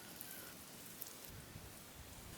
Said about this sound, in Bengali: সেই তেলেই আমি আবার বেগুনটা ভাজিয়ে নিতেছি।